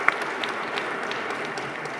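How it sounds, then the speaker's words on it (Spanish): Sustained applause from an audience at a book fair presentation, steady, moderately loud clapping with a few sharper claps standing out. "me gustaría también que le diéramos un fuerte aplauso a Miguel."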